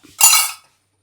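A spoon stirring in a pot gives one brief, bright metallic clink, close and clear, then silence.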